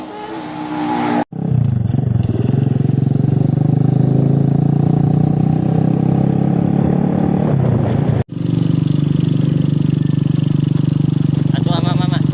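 A motorcycle with a flat tyre runs steadily nearby, its engine a loud continuous drone that cuts out briefly twice before resuming.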